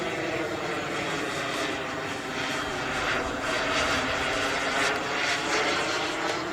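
A Flyfly Hobbies Viper 2.2 RC turbine jet on its maiden flight: a continuous loud, high whining turbine roar that swells and fades slightly as the model passes overhead, outdoors at an airfield.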